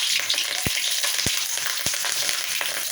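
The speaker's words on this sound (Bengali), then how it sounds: "কড়াই গরম হয়ে গেছে এবার আমি অনেক তেলটা দিয়ে দিই এবার আমি লঙ্কা চিরা কাঁচা আর শুকনো লঙ্কা" Green and dried chillies frying in plenty of hot oil in a kadai, a dense continuous sizzle with a few soft clinks of a spoon against the pan, close up with no talking.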